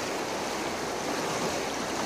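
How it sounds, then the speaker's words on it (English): River flowing in the dark, a steady broadband rush of moving water that holds an even level throughout with no voices. "Look at the river."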